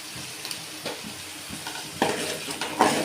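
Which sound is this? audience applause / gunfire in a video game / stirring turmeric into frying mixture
stirring turmeric into frying mixture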